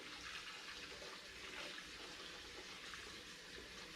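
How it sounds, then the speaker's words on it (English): Cold tap water runs steadily over just-boiled eggs in a pot to rinse them, a close, continuous rushing hiss with no speech. "I'm going to rinse them a little bit in cold water"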